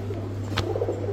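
Black Budapest pigeons cooing softly at close range, a low, throaty murmur over a steady background hum, with no voices present.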